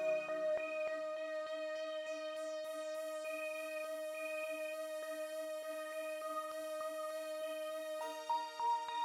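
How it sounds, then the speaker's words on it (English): A bell pad synth layer from an SRX keyboard in a West Coast R&B beat, shimmering sustained bell tones with a steady repeating pattern, soft and alone. "Then for some more layering, we got a bell pad."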